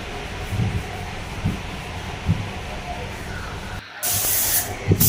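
A spray gun lays a light dusting coat of aqua-base touch-up colour onto an MG Comet: faint background noise, then a sudden loud, steady hiss of spray near the end.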